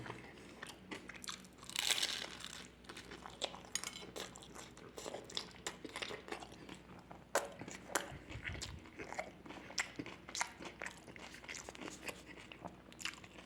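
Someone bites and chews a shawarma wrap close up, with repeated crunchy bites and wet chewing sounds over faint background noise.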